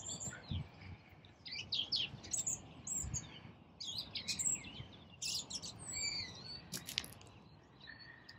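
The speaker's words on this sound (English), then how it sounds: "So there's some seagulls in there, but there's also like, I think even said they were like starlings." A mixed flock of seagulls and starlings calls outdoors over a paddock, busy overlapping chirps and squawks near and far over a steady low background rumble, with no talk.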